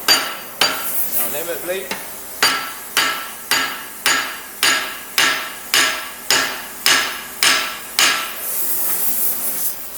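Steady hammer blows on a rivet in wolf jaw tongs clamped in a vice, about a dozen sharp, evenly spaced metallic strikes close by, each ringing briefly, with a few words spoken at the start.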